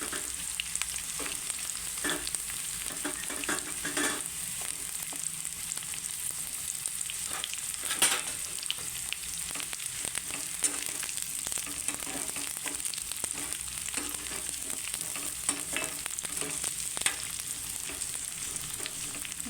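Chopped large onions frying in hot oil in a pan with a steady, continuous sizzle and occasional scraping stirs, close and even throughout, with no one talking.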